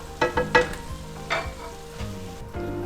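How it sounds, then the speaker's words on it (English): Bacon frying in a pan: a steady, close sizzle, with a few sharp crackles and pops in the first second and another near the middle. No voices are heard. "You don't want the bacon to burn."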